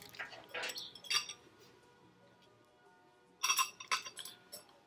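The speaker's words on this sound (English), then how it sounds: "Just mix all those egg yolks." Chopsticks clink against a bowl while egg yolks are beaten for tamagoyaki, in two quick bursts of light tapping separated by a quiet pause, close and fairly soft.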